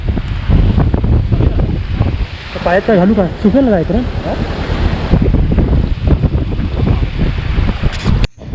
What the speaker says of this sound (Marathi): उजव्या बाजूनं वाहणाऱ्या ग्लेशियरच्या पाण्याचा प्रवाह